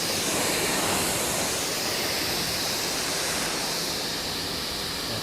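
Steady, loud spray of water from a hose rinsing a car, hissing continuously throughout, a dense broadband rush hitting the surface up close.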